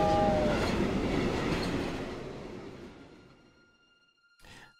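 Train in the video game Loco Motive rumbling and clattering loudly with a brief horn-like tone at the start, then fading away into quiet before a short burst of noise near the end.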